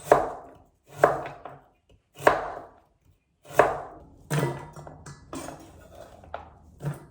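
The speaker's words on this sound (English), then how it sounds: "I'm going to cut the essential ingredients, the vegetable." A slightly dull kitchen knife chops vegetables on a board for Korean spicy beef soup, giving about eight distinct close chops at an uneven pace, each with a short ringing tail.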